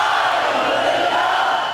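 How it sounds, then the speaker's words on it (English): A large crowd at the Hodag Country Festival concert cheering and roaring together in a loud, sustained wash of voices that holds steady for the whole moment. "tens of thousands cheer for Mr. Hodag"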